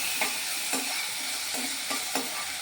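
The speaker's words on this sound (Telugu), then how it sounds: "కొంచెం వేపుదాం ఇట్లా" Steady sizzling of food frying in a pan, close and continuous, with a few soft scraping stirs at regular intervals and no talking.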